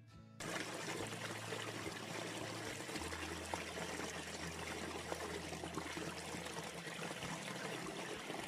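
The Slizza mountain stream rushes steadily through its gorge near Tarvisio, a constant, full broadband roar of flowing water with no pauses, accompanied by a low hum.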